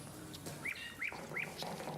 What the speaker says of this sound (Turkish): bu garibe Bursa Karaca Bey bülbülü dinleteceksin